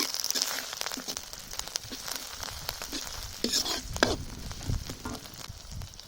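Ginger garlic paste sizzling in an iron pan while tempering for a village-style chicken fry, a close, busy crackling hiss with irregular pops and stirring scrapes throughout.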